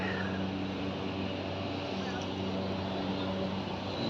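A water sprinkler sprays steadily in a grassy plaza surrounded by tall buildings. It gives a continuous dense hiss at moderate level with no break.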